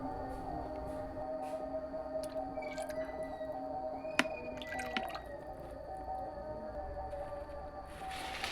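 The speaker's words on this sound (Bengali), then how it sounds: "জলটা গরম হওয়ার পরে একটু লবণ, একটু সাদা তেল দিমু, দিয়া চাউমিনটা সিদ্ধ হওয়ার লাগে দিলাম।" Chow mein noodles go into a pan of boiling water with salt and a little white oil, giving a soft simmering bubble with scattered faint drips and wet squishy splashes, fairly quiet and close.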